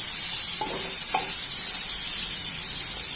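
Ginger-garlic-chilli paste roasting in a pan over low gas for Shegaon kachori filling, a steady soft sizzle with two brief scrapes of stirring near the start, no voices.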